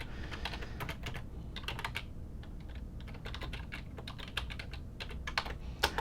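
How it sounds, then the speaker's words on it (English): Rapid bursts of typing on a computer keyboard during a hands-on reinforcement learning session, with close, uneven clusters of key clicks and short pauses and no speech. "I guess I can't type and talk at the same time."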